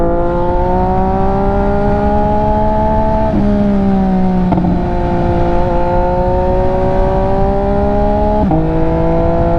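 An MV Agusta motorcycle rides away from the Circuit of the Americas racetrack with a loud, steady engine drone close by. The pitch climbs smoothly through the gears, with clear drops at each shift several times.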